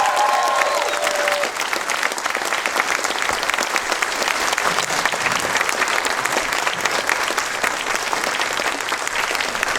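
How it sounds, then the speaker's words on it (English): Sustained, loud audience applause in a cinema at a film festival screening, dense continuous clapping with a few scattered cheers, lasting throughout. "Big round of applause."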